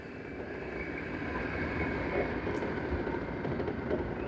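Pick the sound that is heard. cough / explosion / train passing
train passing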